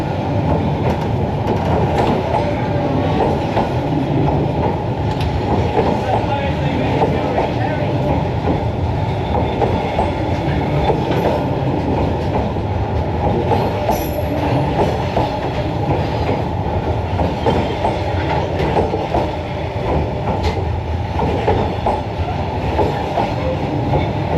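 A train rolls slowly through Hanoi's narrow Train Street, its wheels clattering and rumbling loudly and continuously at close range for the whole stretch, with people talking and exclaiming underneath.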